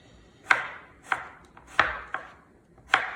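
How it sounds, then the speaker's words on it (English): A knife chops a large zucchini into thin slices on a cutting board, with five or six crisp, evenly spaced cuts heard up close. "we chop up our zucchini"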